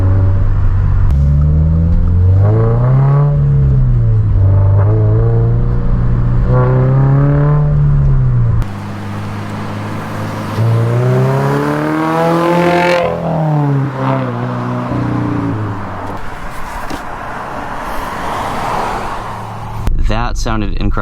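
A 2022 Subaru BRZ fitted with a K&N intake revs up through the gears, its engine note rising and falling in repeated sweeps with loud, near rumble and short gaps at shifts, while someone talks over parts of it.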